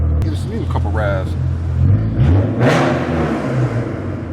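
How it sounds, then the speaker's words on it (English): A straight-piped BMW M Roadster with an S50 engine rumbles nearby and gives a short rev that swells and fades, with voices talking over the engine at the start. "Give us a couple revs."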